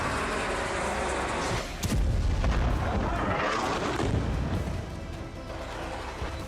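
Heavy bombardment in Gaza rumbles through a broad, continuous roar, with a sudden deep boom and a crash partway through, amid dense distant blasts.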